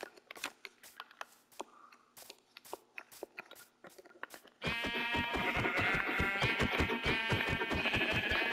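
Sheep in a video game bleat, following a run of sharp clicks, then a dense stretch of layered, crunchy repeated sound fills the second half; no speech.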